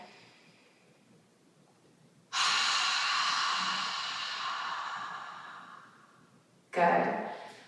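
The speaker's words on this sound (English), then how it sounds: "we're going to take a deep inhale in, and then on the exhale, we're going to make an ha sound with the mouth open" Deep breathing exercise: a faint inhale, then a long, loud open-mouthed exhale on an "ha" sound that fades over about four seconds, followed by another sharp breath, close to the microphone.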